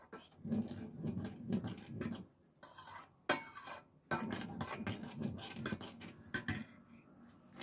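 A spoon stirs brown sugar into boiled milk, with irregular clinks and scrapes against a metal vessel coming in uneven bursts with short pauses, close and moderately soft.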